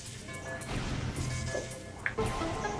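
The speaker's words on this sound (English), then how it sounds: "Alright, Morphball bomb." A Morphball bomb bursting in the video game Metroid Prime, a short crash-like pop standing out against a busy game soundscape of steady ambient hum.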